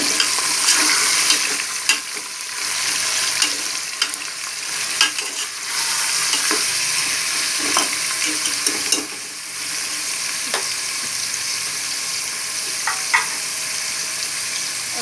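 Mutton hitting six large spoons of hot cooking oil for bhuna gosht, a dense, loud continuous sizzle and crackle with scattered sharp spatters and occasional stirring clicks throughout.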